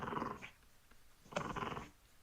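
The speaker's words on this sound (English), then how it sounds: "Were you talking about that growling sound?" A dog growling during play indoors, two low rumbling growls separated by a short pause, fairly quiet and close.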